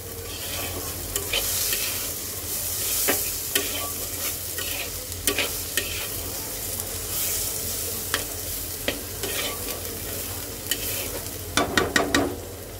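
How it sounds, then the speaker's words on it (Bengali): Chopped onions frying in oil while being stirred in a pan, with a steady sizzle and scattered scraping clicks from the spoon, and a quick burst of stirring near the end. No one speaks. "পেঁয়াজটাকে একটু হালকা ভেজে নেব"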